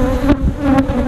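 Honeybees swarm around an open hive during maintenance near a pepper bloom, a loud, close, continuous buzzing hum with a few individual bees droning past.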